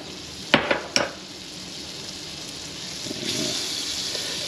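Butter hitting a hot pan while making a BBQ tomato sandwich: a few sharp clatters early on, then a steady soft sizzle that swells slightly toward the end, close by with no talking.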